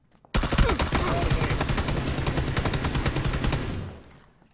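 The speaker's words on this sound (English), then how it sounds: "I'm getting shot at." Rapid automatic gunfire in a shooter video game: a loud, close, sustained burst of evenly spaced shots that tails off near the end, with a brief spoken word over it.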